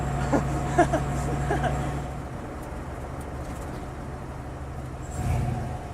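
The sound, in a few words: car engine running, street-driven car with Rossler transmission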